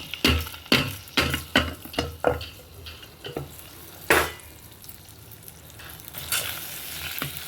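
Tamarind rice mixture being stirred in a pot, a run of close, sharp scraping strokes at first, then softer sizzling mixing sounds with occasional knocks, no voices.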